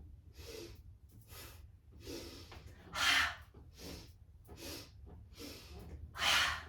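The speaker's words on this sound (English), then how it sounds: "So inhale, inhale, inhale, out the mouth." Breath of joy breathing exercise: a series of strong inhales followed by forceful exhales through the mouth, heard up close with no talking. The bursts come in an even rhythm, and two of them are louder than the rest.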